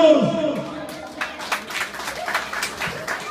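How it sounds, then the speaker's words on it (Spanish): Applause for the godparents at a baptism celebration: scattered hand clapping swells after a brief pause and continues in uneven bursts, fairly close and moderately loud. "Un fuerte aplauso para los padrinos"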